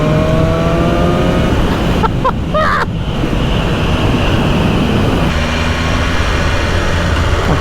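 A BMW S1000RR sport motorcycle accelerates with the throttle open, a loud, steady engine roar under heavy wind rush, with a brief pitch step as it pulls smoothly through the rev range.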